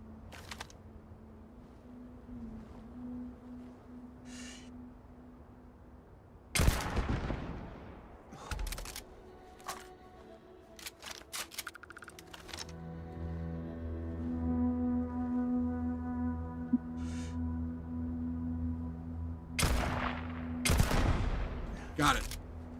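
Turret gunfire in the sci-fi video game Starfield comes as sharp, loud bursts of shots in separate clusters, with sustained game music and tones running beneath and a voice speaking at times.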